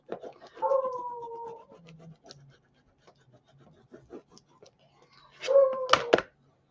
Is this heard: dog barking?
yes